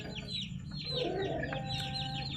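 A chicken suffering from a crop that will not empty clucks in a quick repeated series at moderate distance, with soft chirping around it and no talking.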